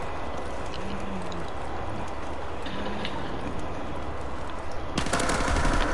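Video game gunfire shooting through walls: a continuous, dense rattle of rapid shots runs throughout at moderate distance, then sharpens into a louder, crisper burst near the end.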